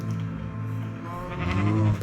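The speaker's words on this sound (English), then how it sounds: "sheep, actual pink sheep." A Minecraft sheep bleats steadily with a wavering, nasal tone, growing louder toward the end, heard up close with no talking.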